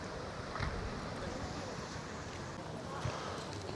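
Steady wash of sea waves and breeze on a beach at Can Pastilla, Majorca, with a constant broad rushing hiss and light wind buffeting on the microphone throughout.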